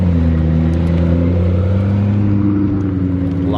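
A black McLaren P1 supercar pulling up to a car show, its engine a loud, steady low rumble with a slight rise in revs toward the end.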